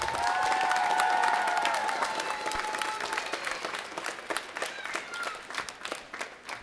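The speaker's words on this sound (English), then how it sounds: "So one more big round of applause for all of the moving parts that are involved." Audience at a middle school band and choir winter concert applauding, a full burst of clapping with some cheers that gradually thins and fades over several seconds.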